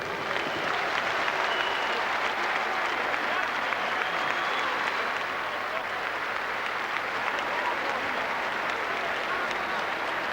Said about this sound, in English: A round of applause for the game challenge of Jose Badillo.